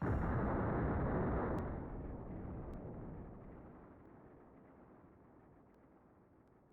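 A big explosion detonating in the video game Overblood 2, a loud booming blast right at the start that rumbles and slowly fades over several seconds, with no talking.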